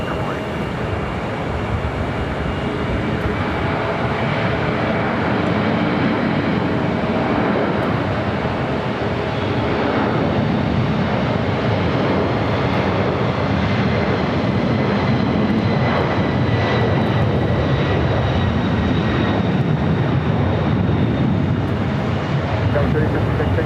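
Jet airliners at LAX airport produce a steady, loud broadband engine roar that holds for the whole stretch, with faint radio chatter from ground control heard intermittently underneath.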